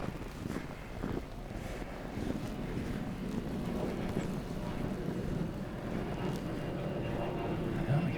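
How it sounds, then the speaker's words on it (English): Jet aircraft passing low overhead beneath cloud cover on a cold day in Bozeman, Montana, a steady broad roar that swells gradually and holds throughout, mixed with wind buffeting the microphone. "jet going overhead. I don't know if it's really low or if the clouds are magnifying it"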